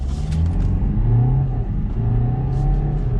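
A BMW G20 3 Series in sport mode accelerates at full throttle, its engine a loud, close rising roar with gear-change dips as the revs climb.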